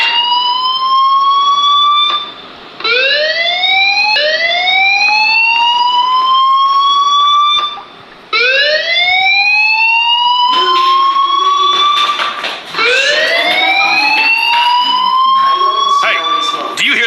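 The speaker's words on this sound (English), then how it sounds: "Fire alarm?" A fire alarm in the Life is Strange video game sounds loud and close, its rising electronic whoops repeating in steady cycles, with short gaps between some of them.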